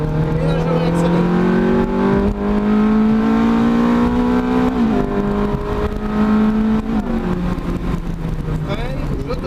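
A Ferrari accelerates out of a corner on a track, its engine note climbing and holding steady with a brief dip mid-way, loud and close, with a voice talking over it.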